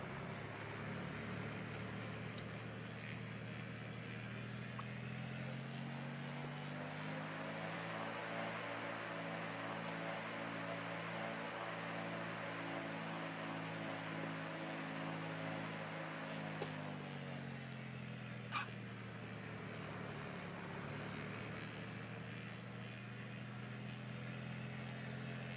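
A PZL Wilga propeller aircraft taxiing in a flight simulator game: a steady, droning engine and propeller hum whose pitch dips and rises slightly, continuous and moderately close, with no talking.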